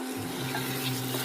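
Onion paste for a chicken gravy is stirred as it fries in a pan, a steady close sizzle running evenly throughout with soft scraping underneath.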